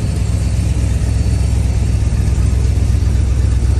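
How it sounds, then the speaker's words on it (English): A 1968 Corvette with a numbers-matching 427/390 HP big-block V8 idles steadily and close up, with a deep, even rumble and a slight lope and no voices. "This car idles really, really nice."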